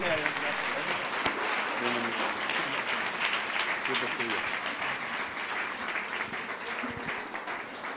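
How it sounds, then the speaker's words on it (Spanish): Congregation applauding a guest pastor during a Sunday church service, a steady roar of clapping filling the room for several seconds while a voice speaks over it. "damos un fuerte aplauso al Señor por la vida de nuestro pastor y salmista Francesco Caballero"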